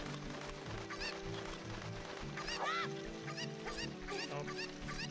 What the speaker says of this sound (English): Take the chicken.